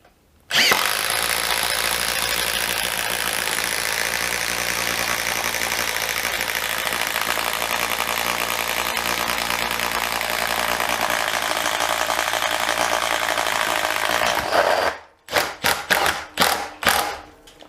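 A Makita DTD171 impact driver bores into wood with a Bosch 32mm self-feeding bit, a loud continuous hammering whir for about fourteen seconds, then a few short bursts as the trigger is pulsed.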